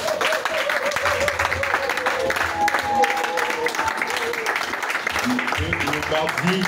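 A church congregation at a French-language worship service applauds and cheers in steady, sustained clapping, with voices and crowd murmur mixed through the dense, continuous ovation.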